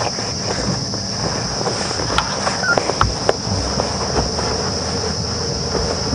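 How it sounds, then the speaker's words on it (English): Cicadas at Djuma Game Reserve drone in a steady high-pitched whine throughout, with scattered clicks and rustles from the surrounding bush in the background. "You can also hear the ubiquitous cicadas"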